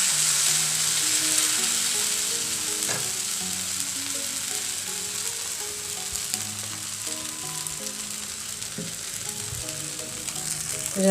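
A dosa fries on a hot pan with a continuous, even sizzle close by, and faint background music runs underneath.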